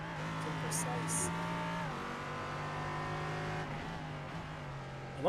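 A Nissan V8 race car engine at Imola, heard as a loud, sustained roar that dips and climbs again through gear changes, with a commentator talking over it.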